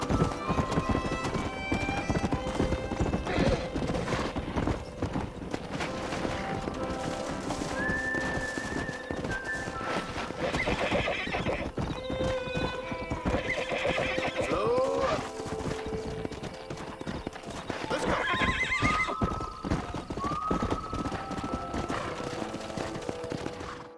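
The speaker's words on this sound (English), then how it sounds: "We got some fine horses." Horses in the video game Red Dead Redemption, with steady clip-clop of galloping hooves and several loud neighs and whinnies over a dense game soundscape, with people talking at times.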